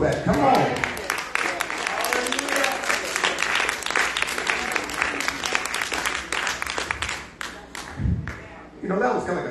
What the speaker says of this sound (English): Clap your hands and thank him for that.